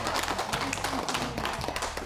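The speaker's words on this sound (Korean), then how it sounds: "박수" Clapping from a lively crowd at a village community gathering with team games, dense and continuous, mixed with chatter and background noise throughout.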